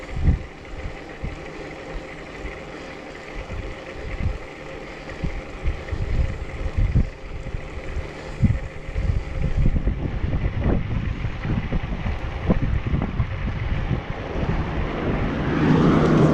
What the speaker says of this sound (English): I definitely feel that wind.